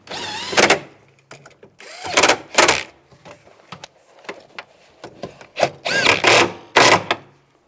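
A power window regulator motor in a 2002-2009 Chevy Trailblazer door runs in several short whirring bursts, close by, with quiet gaps between them.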